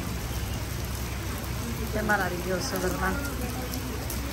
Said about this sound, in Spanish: Mira qué hermoso está lloviendo.